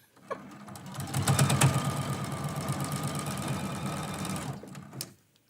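A sewing machine runs steadily while stitching a quilt block for a quilt-as-you-go Christmas quilt, a continuous mid-pitched motor whir with a rapid needle rhythm that lasts about four seconds and then stops.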